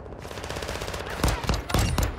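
Gunfire in the Call of Duty video game rings out as a few loud, rapid bursts of shots, close and punchy over a steady background din of in-game noise.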